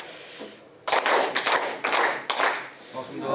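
Four ritual hand claps at a Tenrikyo lecture, sharp reverberant claps in a slow even rhythm after a short quiet lead-in, ringing in a hall.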